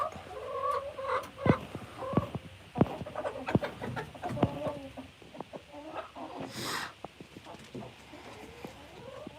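Golden laced Wyandotte and Buff Orpington hens cluck and squawk in short irregular bursts, fairly close, with a brief louder squawk partway through and occasional faint voices nearby.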